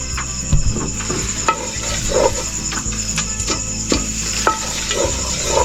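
Cooking oil sizzles in a pan while ingredients are sautéed and stirred, a steady frying hiss broken by scattered scraping and clinking stirring strokes.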